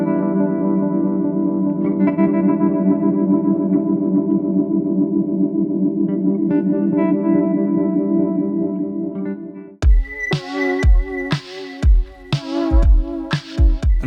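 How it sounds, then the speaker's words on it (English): An electric guitar with tremolo placed ahead of delay and reverb plays a sustained, pulsing chord for about ten seconds, then a few choppy, stuttering chord stabs that cut in and out abruptly; no talking. "you can hear how this effect doesn't work at all if you put the tremolo before your delay and reverb"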